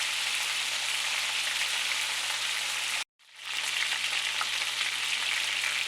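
Chicken pieces and jalapeno browning in a pan for West African groundnut stew, giving a loud, steady sizzle that cuts out for a moment and then picks back up.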